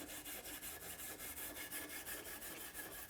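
Steady back-and-forth rubbing on a vintage tool to lift grime, an even scrubbing rhythm of roughly five to six strokes per second, close and continuous with no talk.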